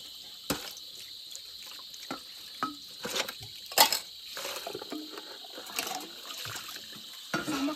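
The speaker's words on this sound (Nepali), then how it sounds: "यता चाहिँ सानो धारा आयो हिमालको चिसो न चिसो पानी आउने भएर साथीहरू" Cold Himalayan meltwater running from a small spout outdoors, a thin steady stream with intermittent splashes and drips, faint insect chirring behind it, no voices.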